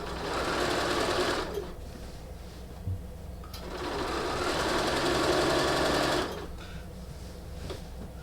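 Sewing machine stitching French fold bias binding onto quilt fabric, running in two long steady whirring bursts separated by a short pause, close and fairly quiet.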